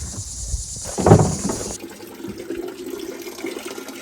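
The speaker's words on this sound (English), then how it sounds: "So without further ado, just try to wash out some of the gunk." Water spraying and gushing through a part from a 1988 Chevy C30 square-body truck, washing out gunk in a loud burst near the middle that settles into a steady, softer trickle and splash.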